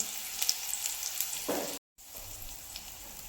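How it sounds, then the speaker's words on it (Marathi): Stuffed bitter gourds fry uncovered in a pan, giving a steady close sizzle. The sizzle cuts out for a moment, then resumes. "आता इथे एक ते दोन मिनटं मी भाजून घेत आहे"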